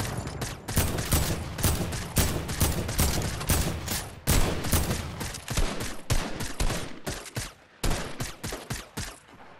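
Rapid bursts of video game gunfire crack out in Fortnite, dense overlapping shots and volleys firing repeatedly in close, loud succession with brief gaps between clusters.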